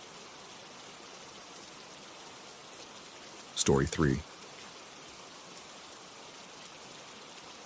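Steady rain falling in a soft, even hiss that continues throughout, with a brief spoken voice in the middle over it.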